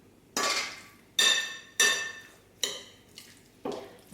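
Potato salad with shallots and parsley being tossed in a bowl, five separate sharp clinks of utensil against dish, each ringing briefly, fairly close, with no talk.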